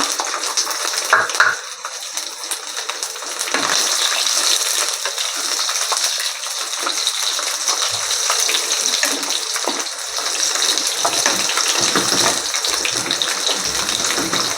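Garlic and mustard seeds fry in hot oil for a Tamil marunthu kuzhambu, a steady close sizzle with scattered small pops that carries on throughout.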